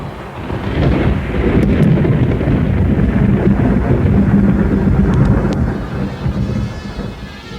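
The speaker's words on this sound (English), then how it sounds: "The children slept well while the storm raged above them." A raging thunderstorm with wind, heard as a sound effect in a dramatised audiobook: a loud, continuous rumbling roar with gusting wind and rain noise, steady throughout with no voices.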